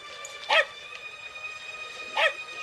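A dog gives two short, sharp barks about two seconds apart, fairly close, over a faint steady background hum.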